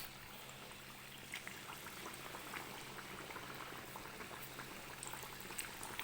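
Qeema kachoris frying in oil at low heat, a soft, steady bubbling sizzle that stays faint and even throughout, with no voices.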